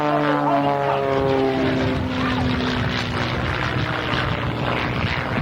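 A propeller aerobatic airplane flies low over the runway at a 1993 air show in South Weymouth, its loud engine drone shifting pitch downward as it passes close by.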